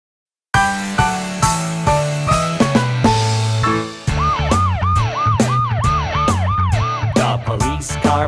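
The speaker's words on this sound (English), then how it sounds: "The police car patrols the town and town." A police car siren wails in repeated rising and falling sweeps, set loudly within bright, bouncy children's nursery-rhyme music with a steady beat.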